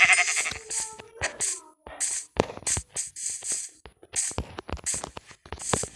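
Several short sheep bleats from a video game, repeated in bursts with clicks and shuffling between them, fairly close and clear.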